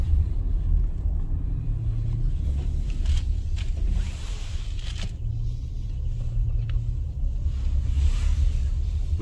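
Steady low rumble of a Hyundai Palisade with a 3.8-litre naturally aspirated engine and eight-speed transmission, heard from inside the cabin during a highway test drive near Incheon, droning evenly throughout with no talk.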